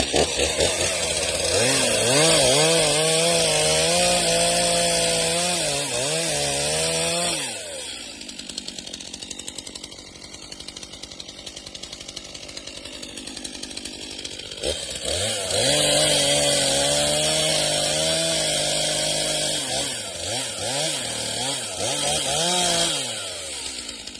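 Loud STIHL MS 260 chainsaw cutting through wood while felling trees, its pitch dropping and straining as it bites in, then revving up again between cuts, close and continuous.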